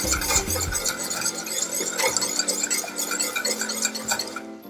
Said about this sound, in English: just whisk this in to make sure it's well incorporated into the mix